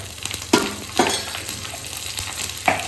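Large curry leaves and green chillies crackle in hot tempering oil for dudhi dhokla, a steady close sizzle punctuated by several sharp spattering pops and light spoon clinks.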